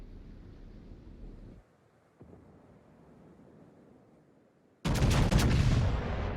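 The Yamato battleship in World of Warships fires a salvo of high-explosive shells: a sudden, loud, booming blast with rumbling roar breaks in after several seconds of low, muffled background rumble and carries on to the end.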